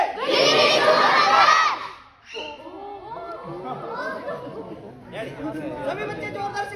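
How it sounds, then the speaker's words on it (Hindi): A crowd of children at a magic show shouting and chattering together, loud and overlapping, with a brief lull before noisy group voices pick up again. "सभी बच्चे बोलेंगे गिली गिली छू मंतर, गिली गिली छू मंतर"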